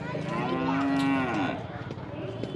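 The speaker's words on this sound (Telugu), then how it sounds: "జెర్సీ ఆవులు ఉన్నాయి." A Jersey cow at a cattle market gives a loud, drawn-out moo close by, the low call rising and falling for over a second before fading into faint surrounding noise.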